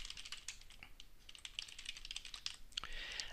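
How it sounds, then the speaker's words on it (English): Rapid typing on a computer keyboard while filling in a Gmail form, a steady close patter of key clicks with brief pauses and a few heavier keystrokes. "I'm just typing in that search box here"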